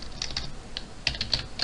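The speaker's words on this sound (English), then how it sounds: "Why am I not typing right today?" Quick, uneven clicks of a computer keyboard being typed on nearby, small bursts of keystrokes with short pauses and no talking.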